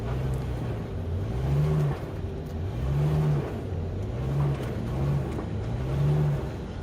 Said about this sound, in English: The wrecker driver got in the truck and backed it right out.